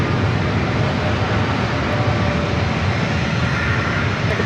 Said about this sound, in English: Delta A321 Neo up next for takeoff.